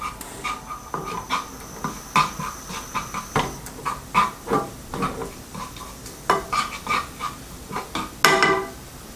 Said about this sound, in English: Add the yellow bean paste and the black bean paste. Saute until it turns aromatic.